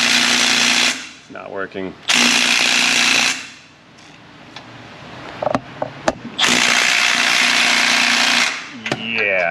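An angle impact wrench hammers on a socket in two loud sustained bursts with a pause between them, someone speaking briefly in the gaps.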